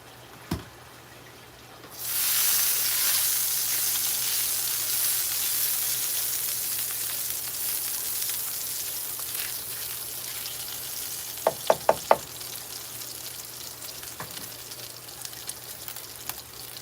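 Food hits sausage fat on a hot griddle after a single click, setting off a loud, sustained sizzle close by. A few quick utensil taps sound later while the frying continues.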